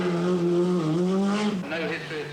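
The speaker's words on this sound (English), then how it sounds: "The little Renault 5 Turbo is proving tough enough for the event" A Renault 5 Turbo rally car drives on the 1982 Lombard RAC Rally, its close, loud engine note droning and shifting pitch as the revs rise and fall.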